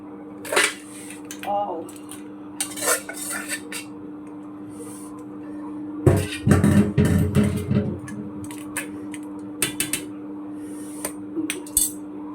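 Metal spoon scrapes and clinks against a pot and bowl in scattered bursts as crab curry is served, with a denser run of clatter midway, over a steady low hum.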